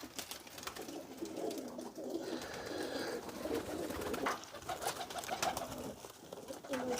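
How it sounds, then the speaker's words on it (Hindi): Soft pigeon coos repeat several times against a faint outdoor background, fairly close and gentle, with no talking. "ये देखें, ये परिंदे आ रहे हैं खाने के लिए।"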